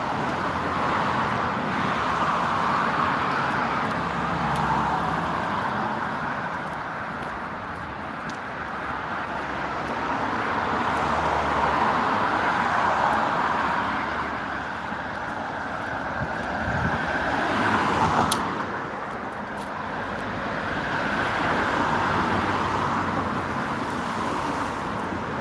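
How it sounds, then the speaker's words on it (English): Road traffic passing on an autumn roadside in Sweden, a continuous loud wash of tire and engine noise swelling and fading as cars go by one after another, with wind buffeting nearby. "Is it too noisy with the cars?"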